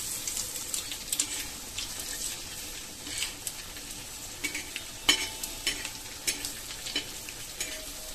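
Boiled egg halves get stir-fried in masala for egg masala, a low steady sizzle under light scraping and clicking stirs at an irregular pace, close but quiet and without talk.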